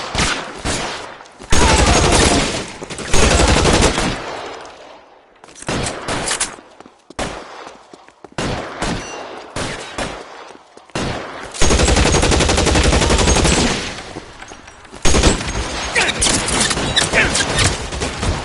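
Machine gun fire in the video game L.A. Noire, loud sustained automatic bursts separated by short pauses, some long rattling volleys and some choppy clusters of shots, with no voices.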